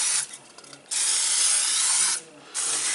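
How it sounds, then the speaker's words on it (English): A can of butter-flavored cooking spray hisses in two long bursts with short breaks between, close and loud, coating a pan. "I'm just going to coat this pan very well with my cooking spray"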